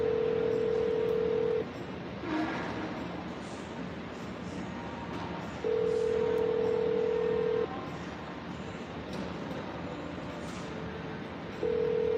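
Steady telephone tones sound across a call to a for-sale-by-owner seller, three long even beeps spaced several seconds apart over constant line hiss, with no talking.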